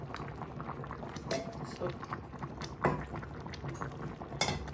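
A pot of herbal medicinal soup with dry fish bubbles on the stove, a steady close simmering hiss with occasional clinks of a utensil against the pot, while a voice briefly speaks.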